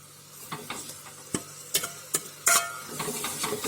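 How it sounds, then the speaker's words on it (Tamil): Ground tomato being stirred into frying onion masala for channa masala, with scattered spoon scrapes and clicks over a low sizzle, close and moderately loud, with no talk. "சேர்த்து நல்லா கலந்து விட்டுக்கோங்க"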